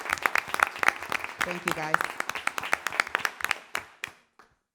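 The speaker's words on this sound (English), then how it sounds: "round of applause for our students" A round of applause for students at a school board meeting: a small room of people clapping briskly and unevenly, a brief spoken thanks in the middle, the claps thinning out and stopping near the end.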